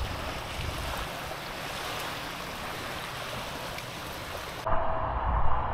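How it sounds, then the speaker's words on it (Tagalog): Steady, loud rush of sea waves at high tide washing against the shore, continuous and wind-blown, with no voices. "Nindot ang dagat ron kay taob."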